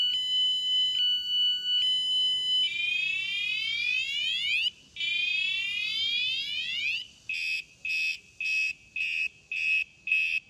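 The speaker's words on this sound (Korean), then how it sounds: "가져갈 수 없도록 이렇게 알람이 발생합니다." A bike anti-theft alarm gives a piercing electronic sound cycling through patterns: steady two-tone beeps, rapid rising sweeps, then loud pulsed beeps, with no voices.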